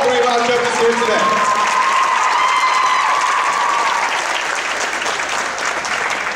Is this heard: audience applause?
yes